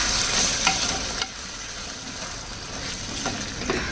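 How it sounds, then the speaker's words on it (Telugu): Prawn and gongura curry being stirred in a clay pot, with a steady soft scraping and sizzling that continues throughout, a few brief louder scrapes standing out, and no talk. "కూరకి మధ్య మధ్యలో ఇలా కలుపుతూ ఉండాలి"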